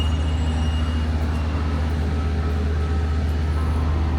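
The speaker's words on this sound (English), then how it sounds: "the background noise of the trucks are part of that sound" Steady low rumble of truck traffic at Newport harbor in the morning, a continuous droning hum that never lets up for the whole stretch.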